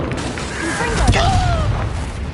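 In Hogwarts Legacy, the Confringo explosive spell goes off with a swooshing, crackling magical burst and a low boom in the middle, amid game ambience and a voice.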